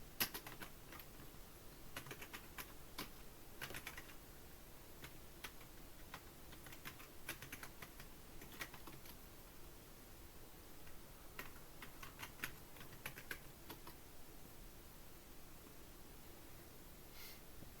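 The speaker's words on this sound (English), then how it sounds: "that's me typing up the password wrong" Someone types a password on a computer keyboard, a quiet run of quick key clicks in bursts with short pauses, close and alone with no talk.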